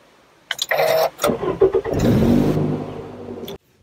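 A car engine starts and revs in short uneven bursts as the driver works the pedals, loud and close, then cuts off abruptly near the end.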